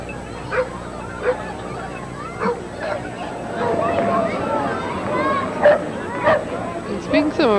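Several dogs riding on a float at a street parade bark and yip in short, sharp bursts, repeated irregularly over a bed of crowd babble and a person talking.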